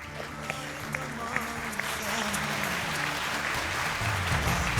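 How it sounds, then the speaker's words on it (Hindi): Studio audience breaks into loud, sustained applause for an arriving guest, a dense wash of clapping that holds steady and swells slightly toward the end, with a faint murmur of voices underneath. "आप सबकी भरपूर तालियों में दावत दूंगा कशफ अली को।"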